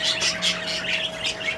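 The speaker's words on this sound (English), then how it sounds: "backing up into a corner and chirping softly" Soft chirps and squawks from a nesting female pet bird backed into a corner of her cage, several short calls close by with a steady faint hum underneath.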